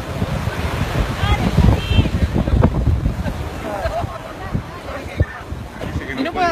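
Sea surf and waves wash over a beach at Villa Gesell as the tide rises, a loud, steady roar with wind buffeting the microphone and voices talking faintly underneath.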